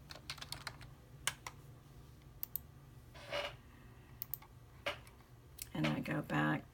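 A computer keyboard clatters as a username and password are typed in, with quick irregular bursts of close, crisp key clicks separated by short pauses and a denser flurry near the end.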